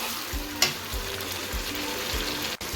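Green peas and spices sauté in a pan with a close, continuous frying hiss and regular thumping stirs about every half second, with no voices.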